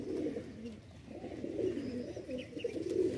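Pigeons, including white-headed ones, coo on a rooftop, soft low murmuring calls repeating steadily and fairly close, with faint chirps in the background.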